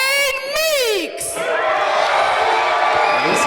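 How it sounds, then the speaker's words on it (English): Loud crowd cheering and whooping at an NWL KC wrestling show before the bell, with shouts and a rising roar that stays steady and close throughout, while a voice calls out early on. "Listen to the crowd in Maverick."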